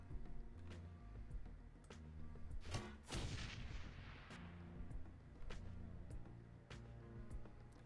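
Grenade launcher fire in the video game Shadowrun: Hong Kong: a broad, loud burst near the three-second mark rolls into a decaying rumble, with sharper pops and steady game music underneath.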